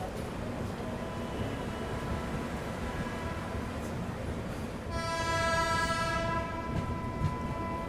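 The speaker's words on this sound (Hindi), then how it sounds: "चलो जी, हॉल्ट कंप्लीट करके अब लेते हैं डिपार्चर" Train pulling away from platform 2 at Aligarh railway station in India, with a steady rumble and a loud horn blast that begins midway and holds for about a second and a half before fading back into the rolling noise.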